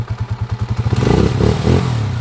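A motorcycle engine runs close by after its timing gear was replaced, first with an even low putter, then rising into a few rougher revs with a mechanical clatter.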